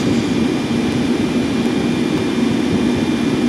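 A Ryanair Boeing 737-800 running its jet engines up for takeoff, a steady loud roar with a deep low rumble and broad hiss that holds constant throughout, with no voices.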